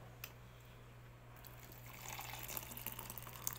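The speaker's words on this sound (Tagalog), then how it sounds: "Lagyan natin ng tubig na mainit yan." Hot water pours into a cup of ginger powder for a salabat ginger drink, a soft trickle that builds into a steadier splashing fill over a few seconds, quiet and close with a low background hum.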